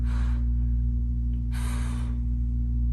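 A person breathes during a stick mobility exercise, giving two sharp, close breaths, one at the start and one a little later, over a steady low background hum.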